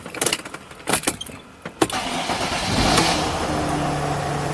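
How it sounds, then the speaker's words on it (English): A Mercedes Sprinter van with ABS faults has its engine cranked over after a few short mechanical clunks, catching and settling into a steady, fairly loud idle close by. "Let's start the engine and see."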